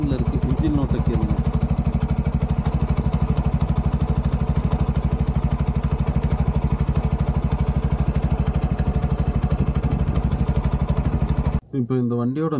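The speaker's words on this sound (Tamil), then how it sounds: "வண்டி இப்போ ரன்னிங்கில் இருக்குது. இன்ஜின் நோட்டை கேளுங்க." A 2025 Bajaj Maxima Z CNG auto rickshaw engine runs at a steady idle, with a close, loud, even chug that cuts off abruptly near the end.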